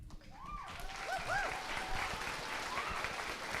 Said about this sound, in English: I would like to add another round of applause to all of our volunteers